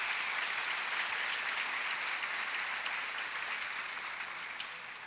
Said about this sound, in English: Can we give the students who led us with the pledge and the color guard a big round of